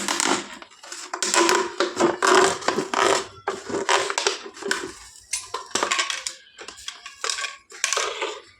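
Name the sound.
cutting a plastic bottle with a heated knife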